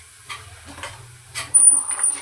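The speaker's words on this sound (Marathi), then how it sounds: "त्यानंतर आपण जो वाटीभर रवा घेतला आहे तो आपण यात टाकूया आणि याला थोडासा भाजून घेऊया" Semolina with a bay leaf stirred in hot ghee for beet laddoos, giving soft scraping stirs and light sizzling that turns brighter and louder toward the end, close and with no talk.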